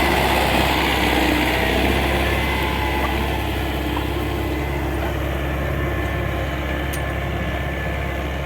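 An MTZ-80 tractor engine idles close by with a loud, steady, rumbling drone that holds an even pitch throughout, with no voices.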